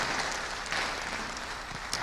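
Sustained audience applause honoring a professor at a faculty training event, a dense, steady wash of many hands clapping at a fairly even level throughout.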